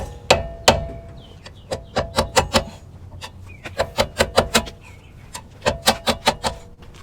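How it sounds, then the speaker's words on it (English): A hammer taps at a clip on an old strut during a Nissan coilover install, sharp metallic knocks coming in quick bursts of three to six blows with short pauses between them, close and loud. "So I'm just going to hammer that, tap that off of there"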